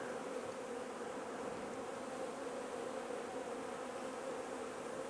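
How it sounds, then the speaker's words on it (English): A steady, close drone of honeybees buzzing in an open hive during queen rearing, a continuous hum with no pauses and no talk. "look at the bees in the gap"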